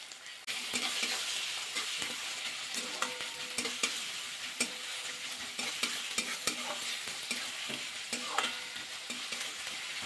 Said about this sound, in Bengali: পেঁয়াজটা একটু ভাজা করে নেব।